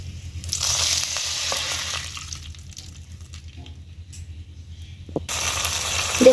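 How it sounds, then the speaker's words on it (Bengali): Strained mustard and poppy seed water hitting hot oil in a pan for a Bengali shorshe ilish curry, giving a bright hissing sizzle that fades to a low simmer before a second loud burst of sizzling. "ছেঁকে রাখা সর্ষে পোস্তর জলটা এবার আমি দিয়ে দেব"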